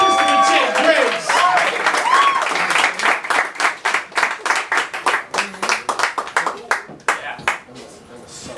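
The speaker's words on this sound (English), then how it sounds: "Put your hands together for Christopher J. Graves" A crowd applauds a spoken word poet at an open-mic event, a full burst of clapping with cheering that thins into a few slower, separate hand claps near the end.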